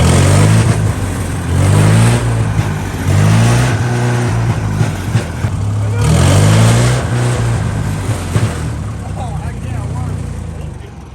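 A loud farm tractor engine revs up and down repeatedly in a low rumbling drone at a tuner car meet, with voices talking in the background.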